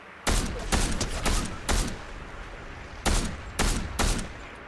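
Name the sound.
gunshots in the video game Fortnite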